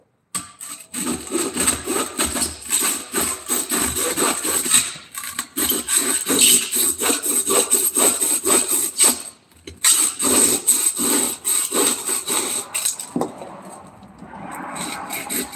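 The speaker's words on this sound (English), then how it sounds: "But this is the bandsaw I have, the radial arm saw." A radial arm saw in a shop cuts through material, a loud, steady sustained whine and rasp with brief dips and a cutoff near the end, no talking.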